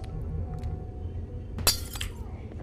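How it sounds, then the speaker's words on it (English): Glass smashes in the video game Garten of Banban 2, one sharp crash with a brief tinkling tail, breaking through quiet low background noise. "All right, break this glass."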